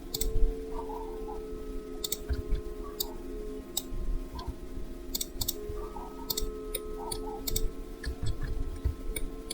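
Sharp computer mouse clicks, several spread unevenly over a steady low hum, while kitchen cabinet furniture is modelled in Revit design software.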